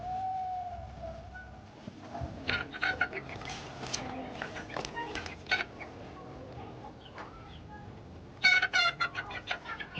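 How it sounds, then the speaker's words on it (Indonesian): Chickens cluck restlessly outdoors near a forest, a busy scatter of short calls and squawks coming in bursts, with louder clustered clucking near the end and faint background noise throughout. "Kok ayam rame begini?"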